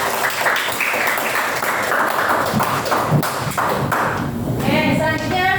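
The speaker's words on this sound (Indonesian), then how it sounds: "Beri tepuk tangan untuk kelompok 1." Classroom applause for the first student group after its presentation, a steady wash of clapping hands lasting the whole moment, with chatter and voices mixed in underneath.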